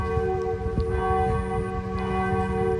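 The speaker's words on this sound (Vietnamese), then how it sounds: "giáo xứ kéo chuông" The Phú An parish church bell in Bùi Chu diocese rings before evening mass, a loud, continuous resonant peal with sustained overlapping tones and no voices.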